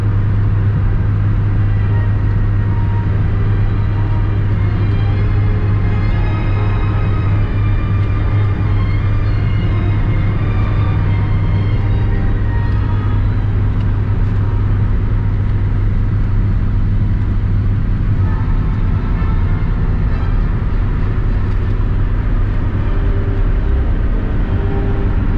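Steady, loud interior drone of an old car on a long highway drive toward Wrocław, a deep constant engine and road rumble with no change in pace and no talking.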